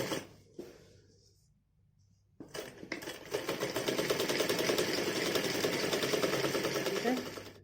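A sewing machine stitching the sleeves of a small child's dress runs in a steady, fast whirring burst after a few quiet handling sounds, close and moderately loud.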